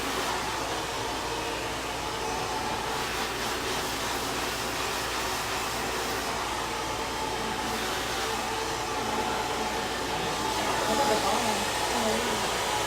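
A hair dryer runs continuously at close range, a steady loud blowing roar while hair is blow-dried and styled, with a person talking faintly underneath.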